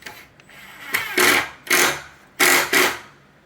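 A hammer drill drives long screws into a wooden bookshelf in three loud, separate bursts, each a short whirring run with a brief pause between.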